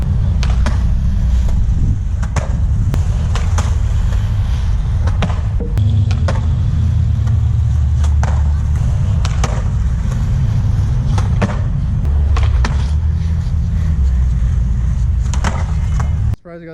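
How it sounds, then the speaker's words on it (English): A skateboard rolls steadily on pavement during manuals, nose manuals and hip tricks. A constant low wheel rumble carries sharp wooden clacks and pops from the board at irregular intervals. "Maybe do a manual, nose manual, and then a couple hip tricks"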